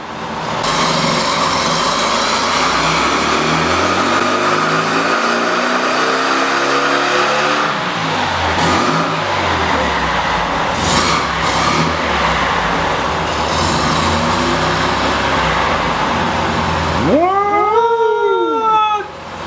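A VW Beetle engine on a dyno roars loudly and steadily, rising and holding through a long hard pull before the revs drop sharply near the end. The sound is close and fills the space, with no talking.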